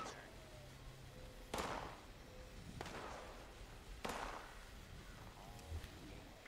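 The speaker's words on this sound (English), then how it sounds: "All right, I hear gunshots." A few sharp gunshots from Fallout 76 crack out, spaced a couple of seconds apart, over a low, steady background hum.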